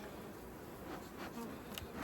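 Honey bees buzz around stacked hive boxes holding honey supers, a faint, continuous hum with occasional louder passes close to the microphone.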